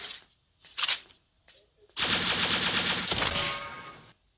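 Automatic gunfire from the mobile MOBA shooter ShellFire: a rapid burst of shots at close range, loud and continuous for about a second, followed by a sustained ringing, after a few brief game effect sounds.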